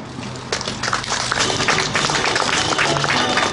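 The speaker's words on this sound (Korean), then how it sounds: "힘찬 박수로 축하해 주시기 바랍니다" A crowd applauds after a ribbon cutting at the opening ceremony of a police substation in Jecheon, with steady scattered hand claps over a murmuring audience and a voice speaking over them.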